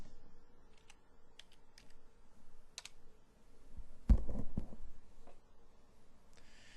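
A name being typed on a computer keyboard, scattered key taps followed by a denser cluster of louder keystrokes and an enter press, close and clear with no voices.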